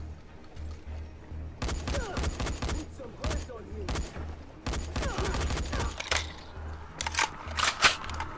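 Enemy gunfire from Dying Light rattles in bursts of rapid shots, with quieter gaps between volleys and sharper cracks near the end.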